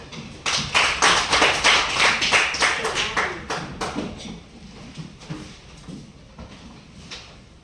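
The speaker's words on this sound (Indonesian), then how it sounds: "Tepuk tangan" An audience claps at a school presentation in Indonesia, with a dense burst of applause that gradually thins out and fades into scattered claps.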